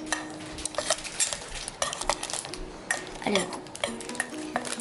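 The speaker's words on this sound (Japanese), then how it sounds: "ホワイトチョコレートで溶かしていきます。" A utensil stirs white chocolate melting in a pot, making repeated close scraping and clinking strokes in a busy rhythm, with a brief spoken word partway through.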